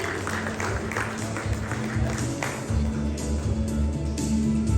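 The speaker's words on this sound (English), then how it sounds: "Rounds of applause for Ultratech Cement" A conference hall audience at an industry water innovation summit applauds an award for Ultratech Cement, scattered clapping running continuously at moderate volume under a low sustained hum and some background murmuring.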